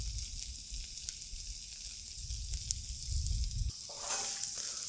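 Butter and a burger patty sizzling on a Blackstone griddle, a steady hiss with light scraping clicks that grows brighter and louder near the end.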